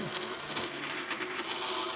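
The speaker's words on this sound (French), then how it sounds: "tant que le mixeur fait du bruit, le blender, je vais expliquer" An electric blender whirs steadily at close range as it purees bread, almond powder, garlic and water, a continuous high motor whine with no talking.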